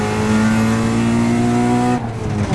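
Honda Integra DC2 VTEC engine held near 8,000 RPM, a loud steady high-revving drone with stable harmonic tones that drops off abruptly near the end as the throttle eases.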